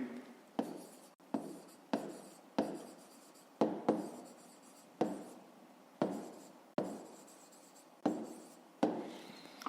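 Pen strokes writing out a fifth-grade maths exercise solution on paper, a steady series of close scratching strokes separated by brief pauses, with no talking.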